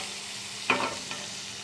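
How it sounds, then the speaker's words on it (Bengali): Tomato, green chili, mustard seeds, dried red chili and bay leaf temper in hot oil, giving a steady, soft sizzle broken by a brief scrape of stirring and no talk. "এখানে টমেটো কাঁচা লঙ্কা সর্ষে আর শুকনো লঙ্কা তেজপাতা ফোড়ন দিয়ে দিয়েছি"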